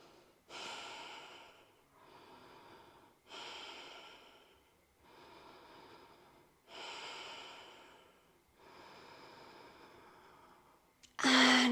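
Slow, deep breathing during a seated chair yoga stretch: about six long, even breaths alternating inhale and exhale, close and soft, alone in a quiet room, ending with a brief loud rustle.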